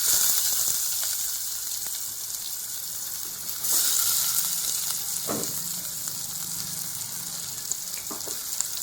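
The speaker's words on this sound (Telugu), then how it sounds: "బాగా మనం దోరగా వేయించుకోవాలండి" Onions and cumin seeds frying in oil in a pan give a steady, close sizzle throughout, with a few brief clicks of stirring and no talking.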